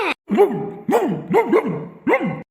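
A dog barks repeatedly at close range, several sharp yelping barks in quick irregular succession with brief gaps between them.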